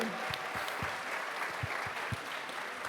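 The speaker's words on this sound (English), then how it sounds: "let's give them a round of applause" Audience applause at a Tesla event, a steady crowd clapping at moderate distance, continuous and even for a few seconds with voices mixed in.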